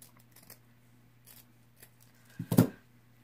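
Scissors cut through craft material for a farmhouse-style knife rack, giving one crisp, close snip after a few faint rustles in a quiet room.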